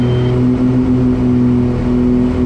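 Aerostar 700 twin-engine aircraft engines powering up for a climb, a loud steady droning hum with strong constant tones, continuous and close throughout with no talk.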